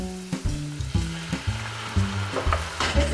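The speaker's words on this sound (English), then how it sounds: "Once the vegetables are in the pan sauteing" Vegetables with garlic sautéing in a pan, Cajun style: a close, continuous sizzle with rhythmic scrapes and taps of a utensil stirring every half second or so, no voices.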